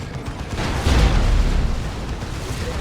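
Heavy explosions from a Demolisher tank in the video game Dawn of War 2 blend into a continuous deep booming rumble, swelling louder around the first second and staying dense and loud without any talk.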